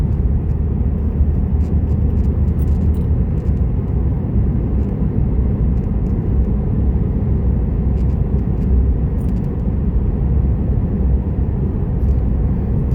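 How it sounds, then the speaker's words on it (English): Steady, loud road rumble and engine drone heard from inside a car cruising along a busy Idaho highway beside a lake, unbroken and without voices. "There are a lot of cars on the highway"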